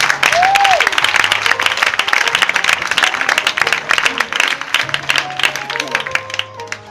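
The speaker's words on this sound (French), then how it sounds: "On acclame le Seigneur si vous voulez qu'il prêche." A church congregation applauds the Lord during a sermon: dense, loud clapping fills the room continuously, with voices calling out and musical tones sounding underneath.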